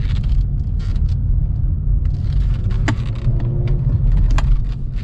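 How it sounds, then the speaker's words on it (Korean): Steady low rumbling road noise carries up from beneath a used Kia K7 driving on tires in uneven condition, with light rattles and ticks scattered over the continuous drone. "하부에서 노면 소음은 좀 있습니다"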